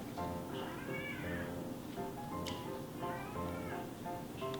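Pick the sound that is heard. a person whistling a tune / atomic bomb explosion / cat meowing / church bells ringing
cat meowing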